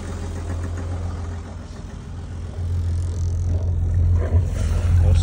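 Perkins diesel boat engine idling after its fuel system was bled, a steady loud low rumble with slight knocking from air left in the system, running alone without talk.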